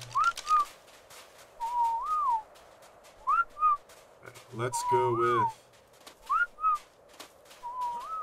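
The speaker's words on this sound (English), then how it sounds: "Someone's just constantly whistling." A character in the video game ARK Survival of the Fittest whistles short rising and falling phrases, repeated again and again, while someone talks over them.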